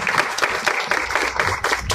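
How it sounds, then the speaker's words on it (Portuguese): Applause from an audience at an emotional tribute event, dense clapping rising and falling in short bursts over two seconds, with faint voices underneath. "Un aplauso, para todos mis profesores, líderes."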